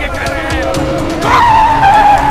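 A car is driven hard with loud tire squeal, a sustained screech rising about midway over engine noise while people shout urgently.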